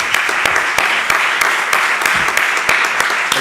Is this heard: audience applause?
yes